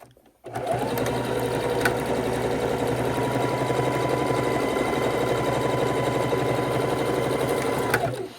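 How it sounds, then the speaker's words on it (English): A sewing machine stitches across folded scrap white fabric for a bra band extender, a steady, loud mechanical whir that runs continuously for several seconds before stopping, with no talk over it. "we're going to bring it over to the sewing machine. Take our scrap white fabric, and I am going to just fold in the edges of it and sew it across"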